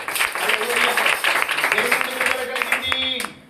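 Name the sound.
church congregation clapping loudly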